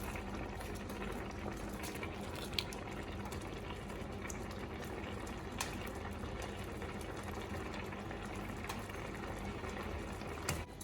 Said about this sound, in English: we're just going to let it bubble away and bring it up to the boil